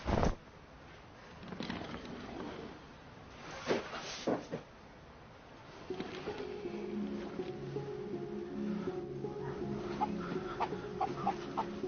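A chicken clucks close by in short bursts, with a few knocks and bumps early on, then a run of repeated clucking that continues steadily to the end.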